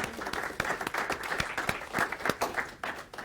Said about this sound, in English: let's just have a round of applause for Shep before he starts